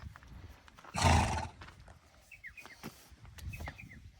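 A tied-up horse gives one short, loud neigh or snort close by. Then soft shuffling follows and small birds chirp faintly in the background.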